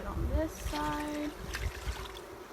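Sugar water mixed one to one is poured into a feeder for a nuc of bees, a short light trickle and splash of liquid close by.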